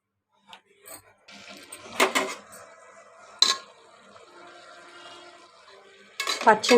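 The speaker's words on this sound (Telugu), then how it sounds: "ఇప్పుడు కొంచెం మూత పెట్టుకుందాం" A metal lid goes onto a cooking pot of cabbage and lentil curry, with a few clanks and rattles, near and distinct, between quiet stretches and a soft simmer.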